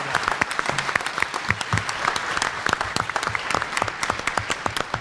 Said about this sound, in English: one person that hasn't gotten a round of applause is Steve